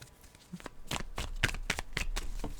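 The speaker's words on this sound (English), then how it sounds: "Just going to give them a quick shuffle." Tarot cards being shuffled by hand, a quick series of crisp riffling flutters and soft slaps in a close, quiet room, with no talk.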